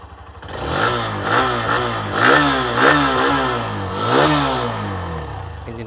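A Hero Xtreme motorcycle engine fires up and settles into a mid-pitched idle, then revs up repeatedly in several rising and falling bursts, loud and close with no talking.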